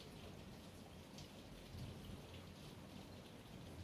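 Rain pours steadily during a thunderstorm, a dense hiss of falling drops with low rumbling thunder beneath, heard fairly faint and continuous throughout without any talking.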